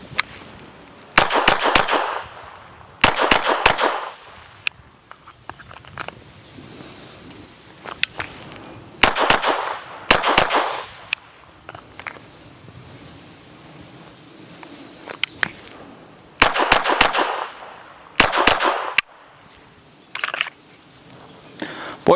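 A SIG Sauer P322 .22 pistol fires in rapid bursts of sharp, close cracks, separated by short pauses, with faint background noise between strings.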